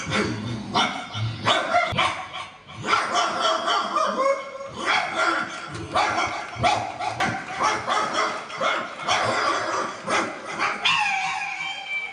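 A dog barks over and over in a long, loud, rapid string of sharp barks with barely a pause, sounding close.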